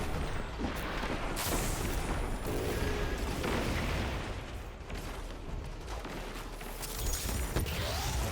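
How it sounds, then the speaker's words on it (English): Grenades keep exploding in Destiny during a Grandmaster Nightfall fight in the Devils' Lair, a dense, loud run of booming blasts and crackling debris that wash into one another with no clear gaps, with no talking. "I'm just going to keep throwing grenades at the brig till it dies."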